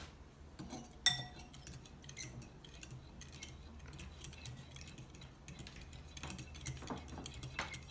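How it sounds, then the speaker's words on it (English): Yeast, sugar and warm water being stirred together in a bowl for beignets, with soft scraping and scattered light clinks of a utensil against the bowl, quiet and close, with a sharper tap early on. "Then we're gonna mix it all together."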